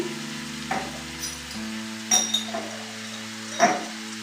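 Egg chowmein frying in a pan with soy sauce, vinegar and chilli sauce, a soft steady sizzle broken by a few sharp utensil clinks and stirring scrapes against the pan.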